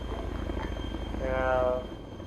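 A helicopter in a video game sits at a landing zone, giving off a steady, fairly loud engine drone and rotor whine that swells briefly in the middle and then eases back.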